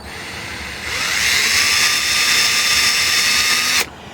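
Power drill boring tuner holes through a Telecaster-style guitar neck for Kluson-type tuners, a steady high whine that rises as the bit bites into the wood, then cuts off abruptly near the end.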